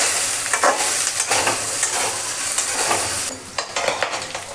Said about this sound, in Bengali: তো এই তেলের টুকরার থেকে যে তেলটা বাইরে গো, ওইটার মধ্যেই আমরা মাংসটা রান্না করব।